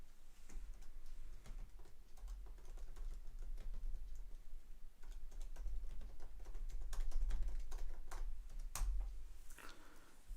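Rapid, irregular clicking of keys on a computer keyboard, close and fairly quiet, continuing steadily with brief bursts and pauses and a low hum underneath.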